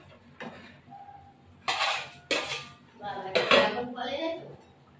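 Metal lid set down onto a cooking pot while making dhokar dalna, giving a couple of loud clanks and rattles of pot and cover close by, with softer kitchen clatter around them and no talk.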